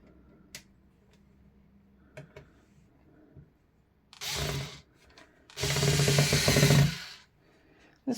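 A power drill drives screws into wood with an oversized bit, giving two separate whirring bursts, one brief and one longer and louder, between quieter handling clicks and taps.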